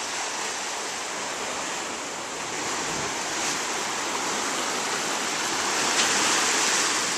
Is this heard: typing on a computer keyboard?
no